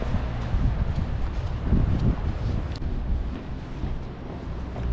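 Strong wind on a high hilltop by the sea near Bamburgh Castle buffets the microphone in a low, steady rumble, gusting slightly throughout with no voices.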